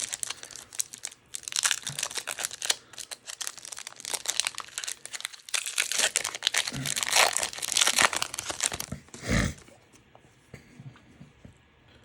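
A Universus Yu Yu Hakusho trading card booster pack wrapper is torn and crinkled open, a burst of bright crackling foil rustles for about nine seconds, then a quiet ending.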